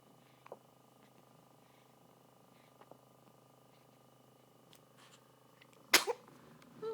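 A single sharp sneeze bursts out near the end of a quiet stretch with a soft steady purring underneath, followed by a brief voice.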